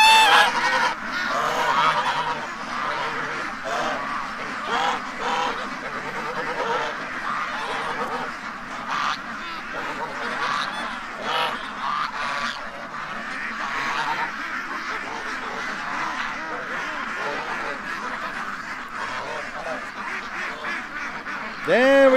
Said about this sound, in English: That's a mess of ducks